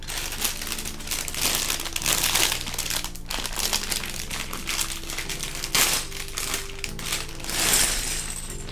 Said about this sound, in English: Let me know if this crinkling's too loud.